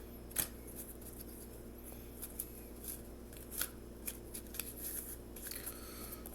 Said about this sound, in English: Let me just shuffle the cards for you real quick.